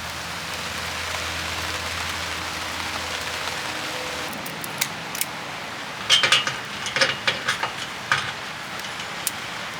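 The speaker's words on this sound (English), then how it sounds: "Sorry for the rain." Steady rain hisses throughout over a boat trailer, with sharper drips and taps landing intermittently in the second half.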